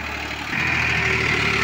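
A Farmtrac 60 EPI tractor engine drones steadily while pulling a rotavator, a close, even mechanical hum with a slight rise partway through.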